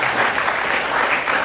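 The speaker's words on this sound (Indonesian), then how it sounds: "Tepuk tangan buat" Applause at a school assembly at SMP N 12 Surakarta, a steady dense clapping from a crowd of students throughout, loud and close.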